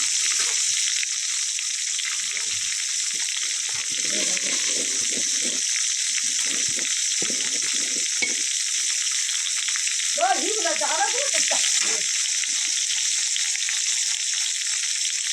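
Spices with coriander and cumin powder fry in a pan with a loud, steady hiss, while soft low scraping and bubbling sounds come and go beneath it.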